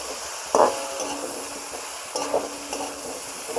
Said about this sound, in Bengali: আমি ভালো করে নেড়ে চেড়ে কষিয়ে নেব